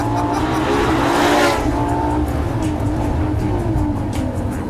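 A 2014 Ferrari LaFerrari pushed hard around a race track, a loud onboard engine roar that swells with a burst of rushing noise, then settles into a steady drone with tire and wind noise.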